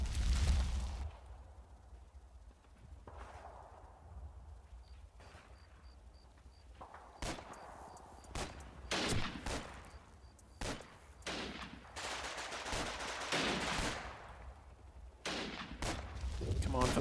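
Scattered game gunfire from enemy infantry in the WWII Normandy wargame Combat Mission: Battle for Normandy, sharp bursts and single shots popping at a moderate distance, irregular and intermittent, with some low rumble between shots.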